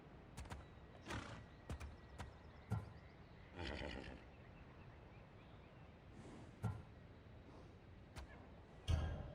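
A horse whinnies and snorts in Assassin's Creed Odyssey amid scattered hoof clops and sharp clicks, fairly quiet with gaps between sounds.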